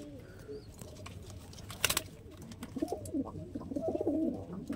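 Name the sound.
Lalsira and Teddy pigeons cooing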